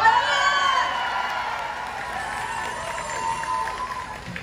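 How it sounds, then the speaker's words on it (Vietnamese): An audience at an overseas Vietnamese concert gives a singer a big round of applause mixed with cheers and whoops, loud at first and then a sustained crowd roar that slowly eases off. "cho một tràng pháo tay thật lớn"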